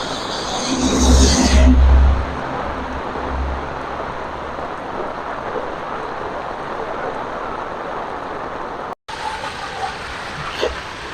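Heavy seasonal rain pours down steadily in Jaffna as a broad, even wash of noise, with a low vehicle rumble passing near the start before the downpour continues alone.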